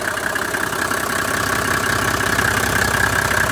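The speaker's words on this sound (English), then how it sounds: "So I haven't turned the engine off." A 1987 Mercedes 300SDL engine idles steadily with its AC compressor clutch not engaging, a continuous, even, close-up mechanical hum and patter that holds at a constant level throughout.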